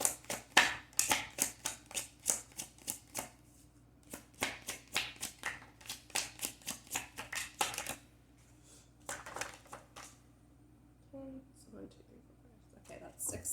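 Tarot cards are shuffled in rapid, crisp bursts of riffling flicks, close and fairly loud, then pause before a few softer card snaps as cards are drawn, with quiet talk in places.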